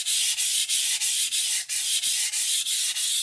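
A knife blade is drawn along its bevel across a sharpening stone in steady, evenly spaced strokes, a close, loud, rasping hiss repeating about every third of a second with short gaps between passes.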